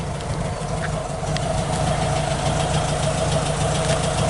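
A 1969 Volkswagen Beetle engine idles while warming up, giving a steady, close, rhythmic air-cooled chugging and rattle at an even pace with no talk.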